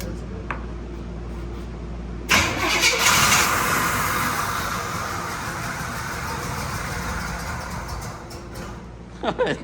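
A flooded 1973 Pontiac Trans Am engine, damaged by hurricane floodwater, cranks and catches roughly, sputtering and running unevenly for several seconds, with voices talking nearby.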